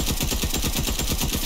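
Rapid, sustained SMG fire from a Fortnite match, a dense stream of close, loud gunshots rattling evenly for about a second and a half with no talk over it.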